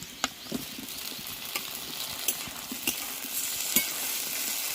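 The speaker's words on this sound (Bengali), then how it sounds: "কাঁচা লঙ্কা দিয়ে দিলাম পেঁয়াজ কুচি দিয়ে দিলাম পেঁয়াজ কাঁচা লঙ্কা ভেজে নিয়েছি" Chopped onion and green chili fry in a pan, a steady moderate sizzle broken by periodic scrapes and taps of a spatula stirring, no voices.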